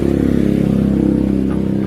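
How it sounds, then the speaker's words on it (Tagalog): A noisy Honda Beat FI scooter engine idles loudly and close, a steady throbbing drone with a fast regular pulsing beat. "So, ipapakita ko din sa inyo kung ano yung tunog ng makina ng unit ng ating customer"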